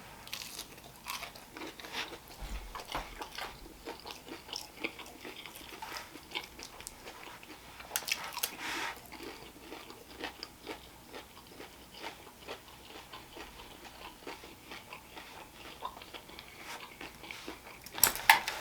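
A Polish cutlet with egg is bitten and chewed close to the microphone, soft repeated crunches and moist chewing spread through the stretch with a few sharper bites.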